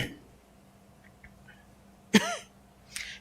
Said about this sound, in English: Every time I get up to talk, I have to cough.